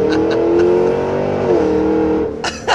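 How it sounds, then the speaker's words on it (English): A 2023 Cadillac Escalade V with a loud exhaust accelerates, a steady droning engine roar heard up close from inside the cab, rising slightly before short bursts of noise near the end. "It's just that you have the additional extremely loud exhaust that penetrates into the cab."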